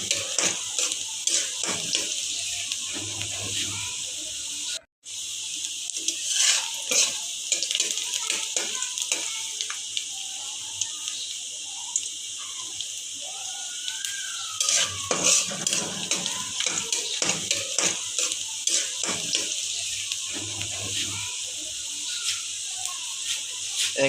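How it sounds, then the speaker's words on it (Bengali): Chopped garlic frying lightly in oil in a cooking pot, a steady sizzle with repeated scraping and clinking stirring strokes throughout, one brief pause early on. "হাঁড়িতে তেল দেওয়ার পর আমরা দিয়ে দিয়েছি রসুন কুচি। আমরা এই রসুন কুচিটাকে হালকা ভেজে নেব"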